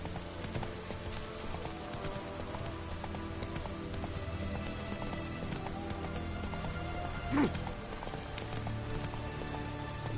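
Roach the horse's hooves clip-clop steadily through The Witcher 3, a continuous rhythmic trotting under rain-like game ambience and layered music, moderately loud throughout with a brief sharp accent near the end.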